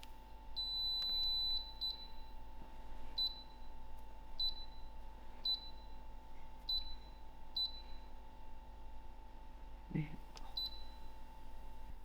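An air fryer's control panel gives a series of short, high, clear beeps, six or seven spaced about a second apart as the bake function is selected, with a faint steady hum underneath.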